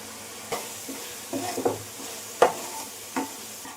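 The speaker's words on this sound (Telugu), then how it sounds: "ఆయిల్ బాగా పైకి తేలేదాకా వేపుకోవాలి" Masala of chili powder, salt and turmeric fries in oil for a fish curry, a soft low sizzle under several scraping stirs of the spoon. The stirs come at irregular intervals and no one speaks.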